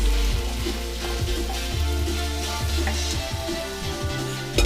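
Peppers frying in a pan for pepper steak, a low continuous sizzle under rhythmic scraping and pushing of the spatula, fairly close, with no talk.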